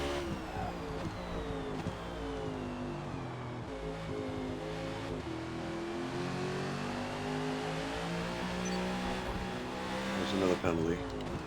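NASCAR race cars roar around the Sunset Peninsula Club track in the racing game Forza Motorsport, a steady, continuous engine drone with shifting pitch that swells slightly near the end, under a voice.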